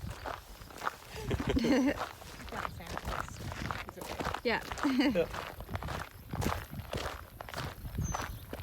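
Footsteps crunch steadily across farm ground near pig pens at a walking pace, close by, while people talk briefly over them.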